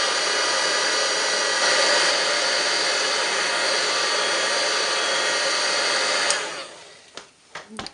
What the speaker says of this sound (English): I'm going to just dry that with my heat gun.